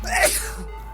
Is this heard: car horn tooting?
no